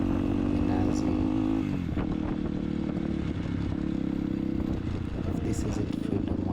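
A motorcycle rides offroad near Mombasa, Kenya, its engine droning steadily with a brief pitch dip, accompanied by rattling and wind, while a rider's voice talks over it.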